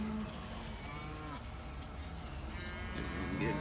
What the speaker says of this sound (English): Good heifers.